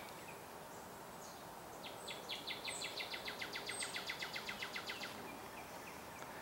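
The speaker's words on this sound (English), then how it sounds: "We have different species of birds here on the trail, as we can hear one sing out in the distance there," A distant songbird along a wooded park trail on a hillside delivers a rapid series of high, evenly spaced chirps lasting a few seconds, faint over a steady outdoor background hush.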